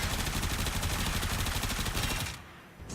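Rapid, unbroken automatic fire from the Supra, a high-capacity 300-round gun in Warframe, rattles steadily and close for over two seconds before cutting off, followed by a brief quieter gap and a final burst.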